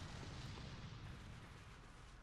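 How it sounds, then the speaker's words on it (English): Low, rumbling boom of an operable cannon fired by an enemy in Bloodborne's Pthumerian Chalice Dungeon, a single dull blast with a broad, sustained roar, fairly quiet overall. "This guy actually shoots a cannon. It is an operable cannon."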